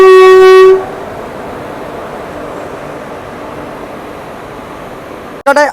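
Old-rake Sealdah super local train setting off, opening with a loud sustained horn blast, then a steady rumbling roll, and ending with another short horn burst.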